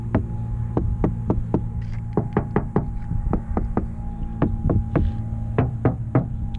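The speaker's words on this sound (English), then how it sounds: "if I just knock here, this sounds in this way, and check this one" Sharp knocks rapped by hand on a soundproofed car door, heavy and dull, coming in irregular clusters of two to four over a steady low hum, close to the microphone with no talking.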